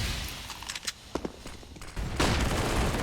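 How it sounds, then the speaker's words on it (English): Counter-Strike match on Mirage: a run of sharp gunshots in quick succession, then a loud sustained burst of rapid gunfire and a flashbang's wash of noise filling the last second. "Nice flashbang."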